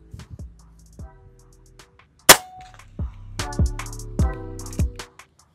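A sharp, close shot from a folding bullpup PCP air rifle pops once early on, followed by a string of lighter metallic clicks and taps.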